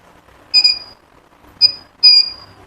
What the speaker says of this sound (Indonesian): Tapi ada suara-suara bip-bip kayak gini